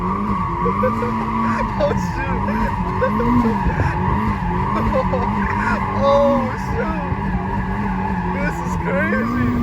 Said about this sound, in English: Alright, so we're gonna do some donuts, just baby ones.